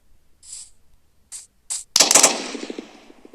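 Several short, crisp clicks or taps are followed by a loud burst of rapid gunfire from a modded 3D weapon in a video game. The burst fades into a rumbling tail.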